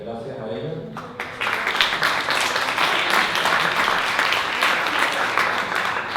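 Audience applause at a poetry event, starting after a moment of voices and swelling into dense, sustained clapping from a crowd that stays loud throughout.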